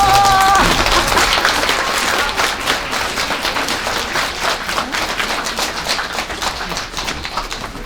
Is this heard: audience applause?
yes